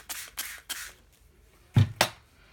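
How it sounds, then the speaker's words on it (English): A hand-held spray bottle spritzes water onto paint chip papers, three short, close hissing bursts in a steady rhythm. After a pause come two louder, sharper sprays. "I'm going to spray some water."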